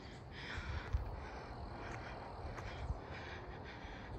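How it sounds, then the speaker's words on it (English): Crows cawing over and over at an outdoor college game, several harsh calls spread across a constant noisy background of crowd and ambience, none standing far above the din. "For real, there's been nonstop birds."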